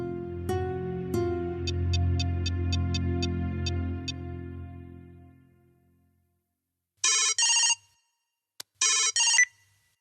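A telephone rings in a Bhojpuri action film: a resonant bell-like ringtone with rapid repeated chimes that fades out, followed after a pause by short bursts of a brighter electronic ring.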